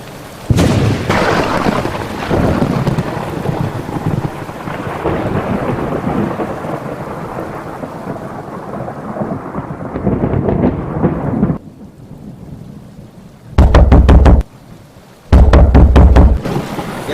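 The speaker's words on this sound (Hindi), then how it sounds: "बहुत बारिश हो रहा सर बाहर" Heavy rain falls outside during a thunderstorm, with loud rolling thunder building early, a long wash of rain and deep booming bursts near the end.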